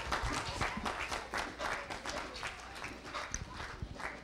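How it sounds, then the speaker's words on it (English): A church congregation claps its hands in a steady rhythm, fairly faint and slightly distant, with a few voices mixed in. "Come on, clap your hands for Jesus."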